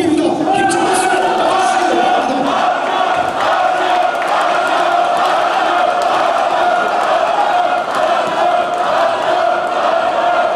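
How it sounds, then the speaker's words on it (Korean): A large crowd at a Democratic Party joint campaign speech event in North Chungcheong, Korea, roars with sustained cheering, shouts and chant-like calls mixed with clapping, loud and unbroken throughout. "힘찬 박수"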